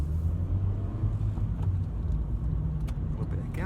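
A car pulls away in busy traffic as the driver eases the clutch to the biting point and adds gas, with a steady low engine rumble and road noise throughout.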